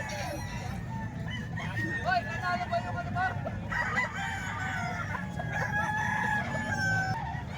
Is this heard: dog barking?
no